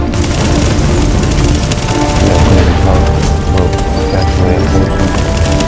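Loud, dense gunfire from shotgun-wielding enemies in The Division, rapid overlapping blasts and booms filling the scene continuously, close and aggressive.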